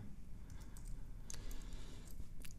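Fingers tap quickly on a computer keyboard, a run of light, close clicks in an irregular rhythm over a faint room hum, with no talking.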